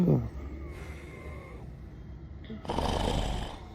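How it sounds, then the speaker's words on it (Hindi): A man sleeps and snores, giving low rasping breaths at the start and a louder, broad snore near the end, with quiet breathing between them. "खराटे भी चल रही है"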